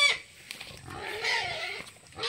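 Pigs on a farm fed organic and natural feeds, grunting and oinking in short, close bursts over a noisy pen background, with no clear talk.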